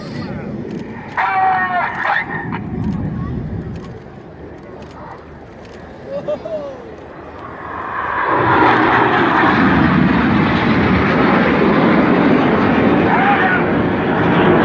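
Red Arrows display team jets at the Sunderland International Airshow: a distant engine rumble grows into a loud, sustained roar of aircraft passing overhead, with talk in the background.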